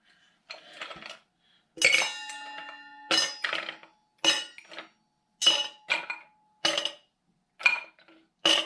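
Ice cubes clink and rattle into a metal cocktail shaker in a series of sharp, bright bursts, about eight separate drops with short silent gaps between them.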